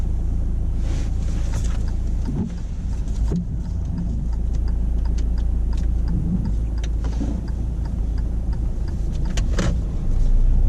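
A car on a wet-weather driving test hums along at a steady, close engine drone with road and wind noise, a few faint clicks and thumps scattered through, with no talking.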